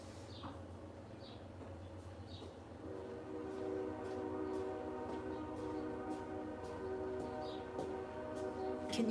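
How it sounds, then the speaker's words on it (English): A train passes at a distance with a sustained, mellow horn blast sounding repeatedly over a low rumble, faint and quiet, with occasional bird chirps in the background. "Can you hear the train going by?"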